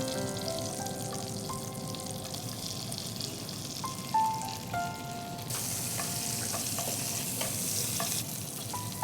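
Food sautés in butter mixed with a little soybean oil, giving a steady close sizzle and frying hiss with occasional stirring clinks and scrapes throughout.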